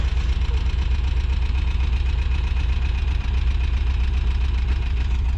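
A Volkswagen Kombi van engine running with a steady, loud, rumbling drone and a slightly knocking mid-low tone, constant throughout and heard close with no voices.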